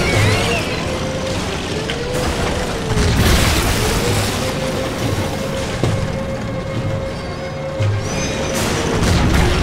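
Tank cannon shots in the video game Earth Defense Force 4.1, heavy booms and crashes over a dense, constant rumble of mechanical game noise, with a few louder blasts standing out.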